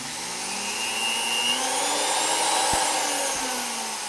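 A VEVOR 380W flex shaft rotary grinder runs continuously at variable speed, its steady whine shifting pitch up and down, close and fairly loud, with no talking.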